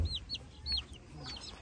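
Chickens cluck in a farm coop, several short, faint clucks and chirpy calls scattered across a brief moment over low background rumble.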